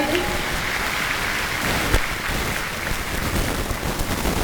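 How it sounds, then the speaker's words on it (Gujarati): Continuous broad clatter of applause from an audience welcoming guests at an Independence Day celebration at a Patel community complex in Amreli, steady and dense throughout with no talk over it. "તો એમને પણ જોરદાર તાળીઓથી વધાવી દી"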